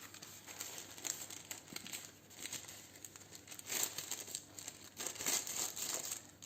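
Paper is folded into triangles, giving soft crinkling and rustling handled close by in quiet bursts, with a few louder crumples and no speech.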